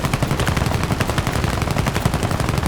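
Rapid, continuous machine-gun fire from a bomber's defensive gunner position in War Thunder, aboard a P.108B Serie 1, with dense, evenly spaced bursts close and loud throughout and no talking.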